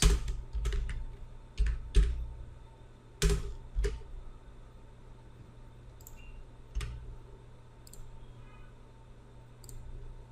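Sporadic typing on a computer keyboard, a few sharp close key clicks and short bursts separated by quieter pauses, with faint ticks later over a low background hum.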